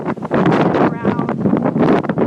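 Strong gusts of wind buffet the microphone at the Ocean View waterfront in Norfolk, a loud continuous roar with surging bursts.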